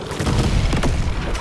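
Rapid bursts of explosions in the video game Deep Rock Galactic Survivor, a loud, dense cluster of booms and thumps packed closely together, with no talk.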